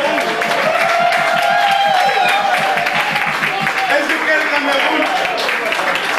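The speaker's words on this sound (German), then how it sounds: "Unter eurem Applaus bitte" Audience at an intercultural party in Oldenburg applauds the Cameroon team captain receiving a trophy, with dense, steady clapping and cheering throughout, and a voice speaking over it partway through.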